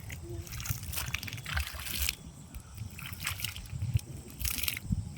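Small caught fish fry are rinsed in muddy water by hand, making close, irregular sloshing and trickling splashes, with voices talking over the water.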